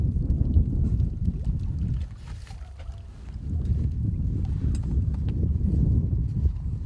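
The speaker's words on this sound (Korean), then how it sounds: "세찬 바람 탓에 캐스팅 한 번 하는 것도 여의치가 않은 상황이다." Strong gusty wind buffets the microphone at an outdoor freshwater fishing spot during spring crucian carp fishing, a loud low rumble that eases briefly in the middle and then returns with rough, flapping bursts.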